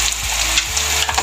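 Red chilies sizzle in oil in a pan at the start of a brain masala (bheja fry). The hiss is bright and continuous, and a spoon stirs with a few soft scrapes. No one speaks during this short moment.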